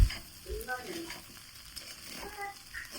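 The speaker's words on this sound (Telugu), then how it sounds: "ఇలా మంచిగా కలుపుకోవాలి." Gobi fried rice with soya sauce and lemon juice being stirred in a pan, soft scraping and sizzling strokes at close range with faint background noise.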